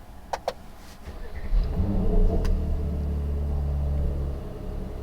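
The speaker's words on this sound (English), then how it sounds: "let's start the engine by holding the downshift and pressing the button" A 2020 Mercedes GLC 43 AMG Coupe's engine starting in Sport Plus mode, with a couple of sharp clicks, then the starter catching into a loud, deep rumble that settles into a steady, booming idle, heard close up.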